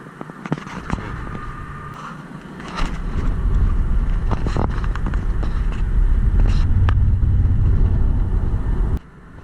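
A 2008 Subaru Impreza WRX STI hatchback cruising on a freeway, heard from inside as a steady low road and engine rumble with wind noise that swells after a few seconds and cuts off near the end; no one talks.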